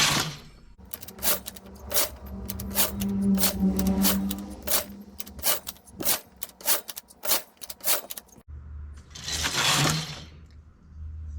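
A knitting machine carriage slides back and forth across its needle bed, making a long run of fast, rattling clicks up close, then a pause before a shorter whooshing pass.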